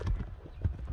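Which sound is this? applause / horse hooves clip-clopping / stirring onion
horse hooves clip-clopping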